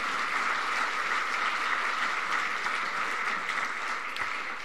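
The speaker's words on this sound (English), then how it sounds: "let's give a round of applause for our titanium sponsors" Conference audience applauding titanium sponsors, a steady wash of clapping from a large crowd in a hall, moderately loud and sustained, tapering slightly at the end.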